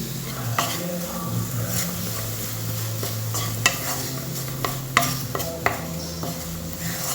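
Sugar melting with cardamom in a hot pan for a sweet kozhukattai filling, stirred with repeated scraping strokes and a few sharper clinks against the pan over a soft, continuous sizzle and low hum.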